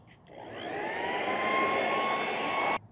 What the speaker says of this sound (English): I'm just gonna use the blower again to blow as much dust from the buildup from yesterday.